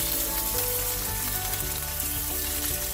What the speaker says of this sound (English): I have my oxtail browned.